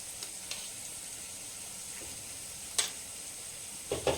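Dried turkey berries with rock salt sautéing in a pan, a faint steady sizzle with a few brief scrapes from stirring, quiet and close, no talking.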